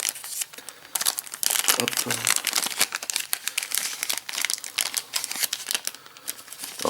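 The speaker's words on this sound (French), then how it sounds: "Ensuite, on va ouvrir ce sachet" A plastic bag is torn open and handled in a French unboxing of an X-Wing V2 M3-A Interceptor miniature, with dense, close crinkling and rustling throughout as a voice briefly speaks.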